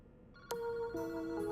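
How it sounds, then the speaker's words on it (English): A telephone rings in the Paranormasight video game inside a quiet park, a clear electronic ring tone starting abruptly and repeating in steady bursts over a low ambient hush, with no talking. "The ringing of the phone is the only sound cutting through the quiet park."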